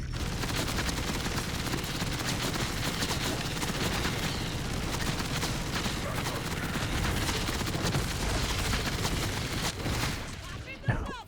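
Rapid bursts of weapon fire from the Mally wand gun in Borderlands 4 rattle on almost without a break through a dense, loud combat mix, with impacts and blasts layered into the game noise.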